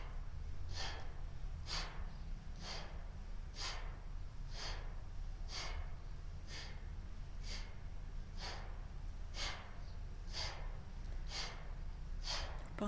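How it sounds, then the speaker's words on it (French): Deep, slow breaths in and out during a gentle exercise session, about a dozen even breaths spaced roughly a second apart, close and soft with no talking. "on commence à inspirer profondément et expirer complètement"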